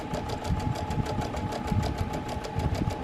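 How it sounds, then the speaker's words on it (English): A sewing machine stitches close along the corners of a scrappy mock cathedral windows table topper, running at a steady, even, fairly quiet rhythm without pause. "I'm just sewing this about 1/8 of an inch away."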